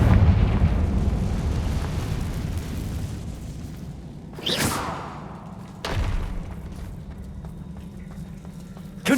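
Two heavy blasts from the Confringo spell in Hogwarts Legacy boom a second or so apart over a low ambient rumble, each a loud burst with a fading tail, and a third hit cuts in at the very end.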